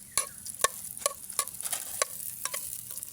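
Onion is stir-fried in a hot pan with garlic for a papaya and coconut milk dish, giving a soft continuous sizzle broken by repeated scraping strokes of a utensil against the pan.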